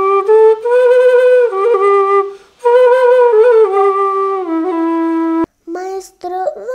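Quenacho, a large low-pitched Andean flute, plays sustained breathy melodic notes with smooth slides, pausing briefly mid-phrase and stopping near the end before a few short notes, loud and close with no talking.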